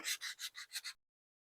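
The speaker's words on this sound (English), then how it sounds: "Okay, so the major sanding is done." Six quick, even hand-sanding strokes on a resin cabochon, a dry raspy scrape repeated in steady rhythm, close and quiet, then silence.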